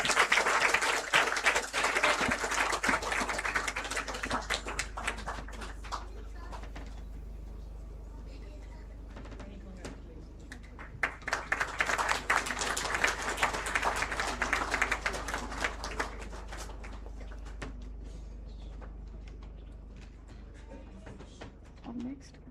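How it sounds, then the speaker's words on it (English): Audience applause for moot court winners at a prize distribution ceremony, two swelling bursts of clapping separated by a quieter patch of scattered claps, with voices in the room around them. "please, a huge round of applause for them"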